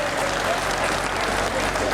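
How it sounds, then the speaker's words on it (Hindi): Steady audience applause fills a hall at a Hindi comic poetry gathering in Baraut, an even, dense wash of clapping from many hands. "उनके इस सौभाग्य के लिए भी पूरे सदन की तालियां बजे यार"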